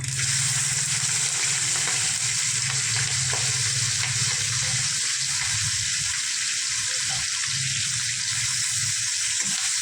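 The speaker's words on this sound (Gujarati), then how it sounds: "ધીમો ગેસ કરીને પછી મરચાંનો વઘાર કરવાનો." Green chillies splutter in a loud, dense tempering with asafoetida in hot oil over a low gas flame, a continuous close-up hiss and sizzle throughout.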